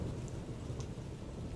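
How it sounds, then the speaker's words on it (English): Heavy rain pours steadily in a dense, loud wash, with a low rumble of thunder underneath throughout the short stretch. "The rain came down hard that night in Humacao. Thunder cracked over the mountains"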